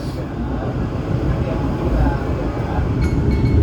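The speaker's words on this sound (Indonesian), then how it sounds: "kereta Argo Bromo Anggrek melintas langsung di stasiun Tegal" Argo Bromo Anggrek passenger train passing straight through Tegal station without stopping, a loud continuous rumble of wheels and carriages close by, with a voice talking over it.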